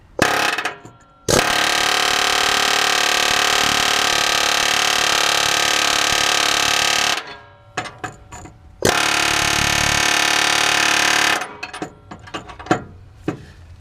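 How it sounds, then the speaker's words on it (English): A pneumatic air hammer rattles loudly and continuously for several seconds busting welds loose on a Honda Civic, stops, then hammers again, with metal clanks and knocks in the gaps. "I can now hit it with the air hammer on the back side and actually bust these two welds"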